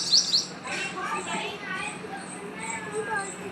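Small birds chirp and tweet in high, quick bursts near a feeding spot, moderately loud, while people talk nearby.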